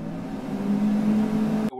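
A kitchen range hood exhaust fan running on its high setting gives a steady, fairly loud whirring drone with a low tonal hum, holding level for nearly two seconds before cutting off abruptly.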